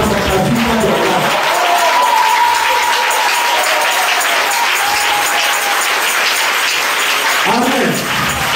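Church congregation applauding loudly and steadily throughout, a dense sustained wash of clapping with some cheering mixed in during a French-language worship service.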